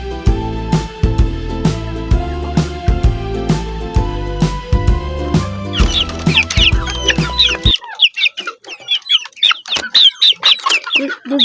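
Hens and chicks cluck and peep in an African village, with busy close chirping throughout. Music plays under the first part and then cuts out, leaving the birds alone and near.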